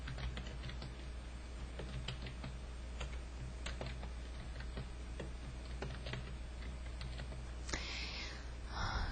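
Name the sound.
typing on a computer keyboard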